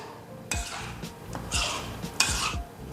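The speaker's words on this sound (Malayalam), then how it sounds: "എന്നിട്ടിത് നല്ലപോലെ ഒന്ന് മിക്സ് ചെയ്യുക." Chicken stock being stirred in a blender jar for homemade dog soup, giving a few close, brisk scraping swirls and light clinks of utensil against the jar, with no talking.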